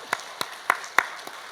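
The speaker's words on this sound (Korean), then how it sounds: "박수로 한번." Sparse handclaps from a church congregation thanking the choir at a Sunday worship service, six or so separate claps spaced irregularly over a quiet room, light and brief rather than a full ovation.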